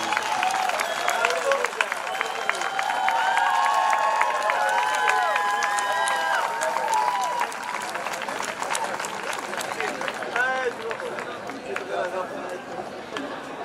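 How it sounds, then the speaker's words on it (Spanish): Applause from the audience at a tuna music awards ceremony in Barrio del Carmen, with scattered clapping mixed with crowd chatter, cheers and loud overlapping voices throughout. "Ese aplauso, muchas gracias por ese aplauso."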